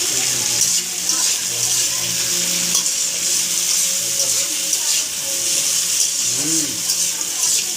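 Tomatoes cook and soften in a pan, with a bright, steady sizzle under repeated stirring scrapes, plus faint low tones and a brief wobbling hum near the end.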